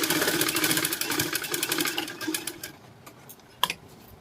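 A sewing machine stitches a high neck blouse, running in a fast, steady whirring rattle that slows and stops partway, followed by a single sharp click.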